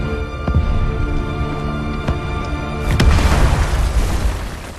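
An artillery shell explodes in a Korean War film battle scene, a single loud deep boom near the three-second mark followed by a rushing burst of debris, with faint earlier thumps beforehand and no speech.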